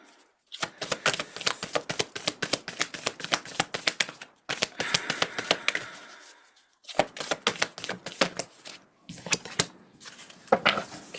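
Oracle cards are shuffled and drawn up close, with quick riffling bursts of crisp papery slaps that run in several runs separated by brief pauses and a softer sliding sweep midway, with no talking.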